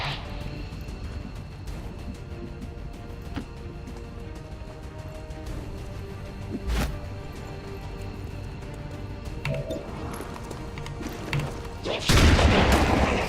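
Shotguns fire in XCOM 2: a sharp blast midway, then a louder, heavier burst near the end over a low ambient bed.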